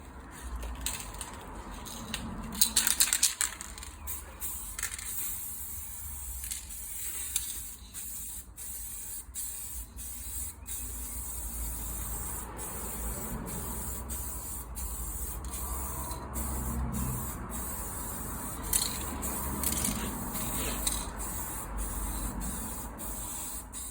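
Spray gun laying a metallic blue base coat over a repaired car dent, a close, continuous hiss running in bursts with brief pauses.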